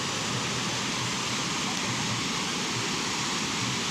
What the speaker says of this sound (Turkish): Van Muradiye Şelalesi arkadaşlar.